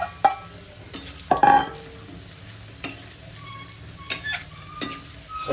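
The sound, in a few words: coriander muthiya stir-fried in oil with sesame, cumin, carom seeds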